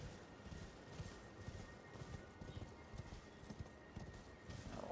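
Torrent, the spectral steed mount in the Elden Ring video game, clip-clops steadily at a riding pace, hooves thudding in a continuous rhythm over ambient game sound, with a brief whinny-like tone near the end.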